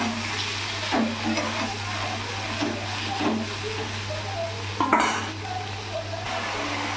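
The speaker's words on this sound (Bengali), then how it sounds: "তো এখানে আমি লতিটাকে একটু হালকা ভেজে নেব ছোটো কড়াইটাতেই।" Taro stolons fry lightly in a small wok, a soft continuous sizzle under a steady hum, broken by occasional scrapes and knocks of a utensil stirring against the pan.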